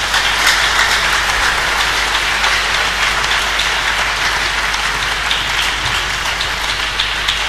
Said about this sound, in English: giving the guest lecturer a more resounding applause